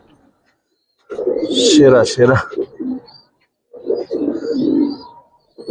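Giribaz pigeons at a pigeon farm coo in two close bursts separated by a short pause, the soft throaty calls close and fairly loud, with people talking nearby.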